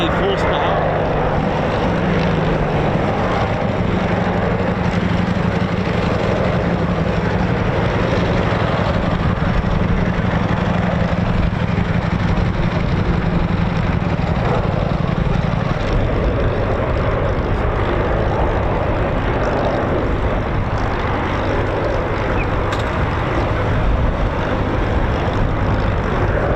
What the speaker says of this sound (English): 27-litre Merlin 45. Rolls-Royce power up, 1185 horsepower.